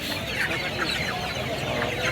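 Chickens at a busy poultry market in Dhaka keep up a dense chorus of clucks and squawks, close and continuous, with market noise and some voices underneath.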